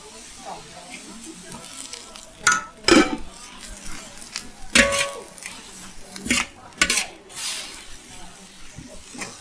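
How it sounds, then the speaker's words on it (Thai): Vegetables are stir-fried in a pan until they wilt, a spatula clanking and scraping against the metal in irregular bursts over a low sizzle, with someone talking throughout. "ผัดให้สุกค่ะ ผัดให้เขายุบตัว"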